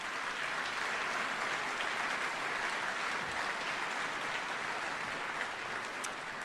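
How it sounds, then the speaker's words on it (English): A crowd at a military change of command ceremony applauds the colonel's family in a continuous, even roar of clapping that stays fairly soft and distant for several seconds. "Let's give them a round of applause."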